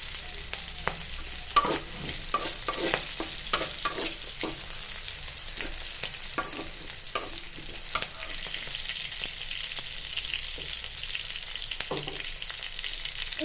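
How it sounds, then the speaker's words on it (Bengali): Whole cumin seeds sizzle and crackle in hot oil, a steady hiss dotted with many small pops and spatters. "এবারে আমরা দিয়ে দিচ্ছি গোটা জিরে,"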